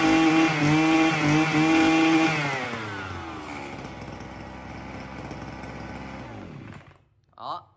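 A gasoline brush cutter engine runs steadily and smoothly, loud and close, with a droning buzz that eases slightly in pitch before cutting off, followed by a brief soft noise.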